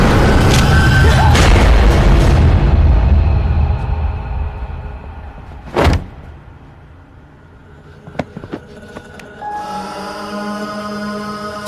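A gunshot in a Cantonese-language TV crime drama: a heavy booming blast at the start fades out, then a single sharp crack rings out near the middle, followed by a few faint clicks and a rising background hum.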